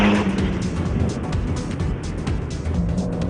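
Turbocharged Suzuki Swift Sport engine pulling hard while driving, a loud, steady engine drone with road noise, sustained close throughout.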